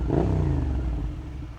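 Suzuki SV650 motorcycle fitted with an M4 exhaust, engine rumbling with a low throaty note that falls away as the throttle eases off, close and steady for a moment with no talking.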